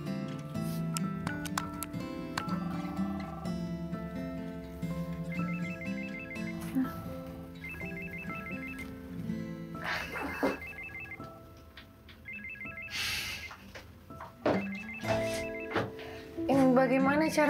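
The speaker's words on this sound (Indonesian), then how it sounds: "Nanti kalau telepon ini berdering, kamu angkat ya." Telephone in a waiting room ringing in repeated electronic bursts at regular intervals, layered with background music and other sounds.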